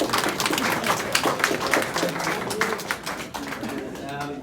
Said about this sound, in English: Round of applause for the whole world.